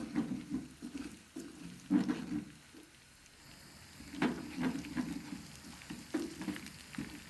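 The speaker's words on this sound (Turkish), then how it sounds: "biber ve yağ kendini bulana kadar bir dakika daha pişiriyoruz" Red pepper flakes frying in hot oil with onion for a Gaziantep simit aşı, a steady close sizzle broken by a few louder stirring scrapes and bursts, with no talk.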